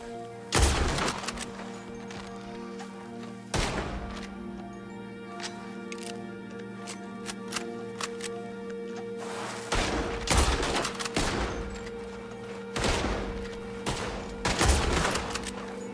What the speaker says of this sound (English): see if we can just pop a few shots